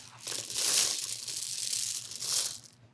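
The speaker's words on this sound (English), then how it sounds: "I'm gonna put the beads in, parchment circle." Parchment paper crinkles and crumples close up as it is pressed into a quiche crust and baking beads are added, two swelling bursts of rustling and crunching over a faint low hum.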